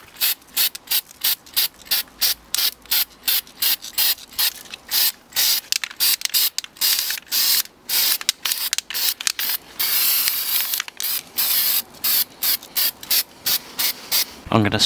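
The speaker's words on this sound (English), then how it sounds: "I'm now going to cover the octopus in fine texture paint." Fine texture paint sprayed from an aerosol can onto a plastic model octopus, heard as a long run of short, rhythmic hissing bursts close up, closing with a few longer sustained sprays.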